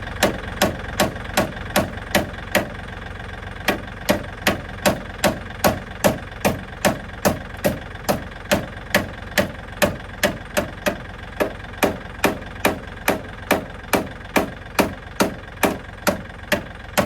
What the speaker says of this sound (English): I'm going to relieve the metal with my hammer.